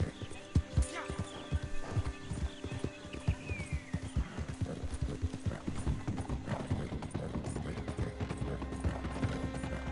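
Rhythmic clip-clop of a horse's hooves galloping in a PS4 video game, repeated sharp hoofbeats with a neigh, while a person talks over the game sounds.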